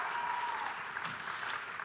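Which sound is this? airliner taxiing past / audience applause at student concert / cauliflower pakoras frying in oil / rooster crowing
audience applause at student concert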